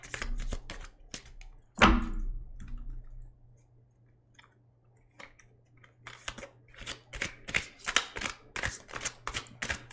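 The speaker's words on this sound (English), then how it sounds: "Why can't I shuffle these cards right now?" Tarot cards being shuffled up close, crisp clicking and riffling bursts in quick irregular runs, with a quiet pause in the middle before a faster flurry of snaps.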